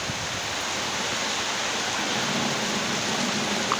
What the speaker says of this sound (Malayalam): മഴവെള്ളം വീണാലും വേണ്ടില്ല